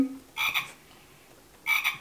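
Two croaking bursts from a toad, about a second apart, loud and close with quiet between them, heard during a children's speech-therapy practice session.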